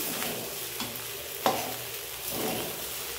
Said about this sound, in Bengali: ভাতটা ছড়াতে থাকছি, আর একদিক দিয়ে নাড়তে থাকছি